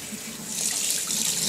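Tap water running steadily into a sink while canned tuna is drained, a continuous close hiss of flowing water with no talk.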